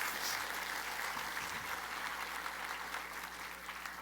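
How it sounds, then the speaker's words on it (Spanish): Church congregation applauds during a sermon with a steady, dense wash of clapping that sounds somewhat distant and reverberant, holding at an even level throughout. "Dele un aplauso al Señor."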